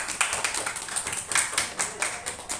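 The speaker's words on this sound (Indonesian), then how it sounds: "Boleh tepuk tangan teman-teman" Classmates in a sociology microteaching session clapping hands, with scattered, fairly faint claps in an uneven rhythm in a room.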